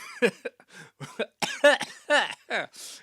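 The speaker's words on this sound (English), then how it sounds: "My throat hurts and I keep coughing." A series of harsh, raspy coughs and throat-clearing sounds, close and loud, in irregular bursts with short pauses between them.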